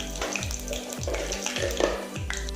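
Peanuts fry in hot cumin-seasoned oil for moraiya khichdi, a steady close sizzle and crackle with a faint low hum beneath, no talk.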